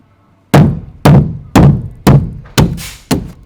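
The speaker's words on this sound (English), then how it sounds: "My impressive hammering skills." Six heavy hammer blows land at a steady pace, each a sharp close thunk that quickly decays, with no talking.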